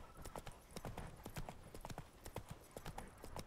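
Roach the horse trots in The Witcher 3: Blood and Wine, a steady clip-clop of hooves at close range repeating evenly, with faint voice underneath.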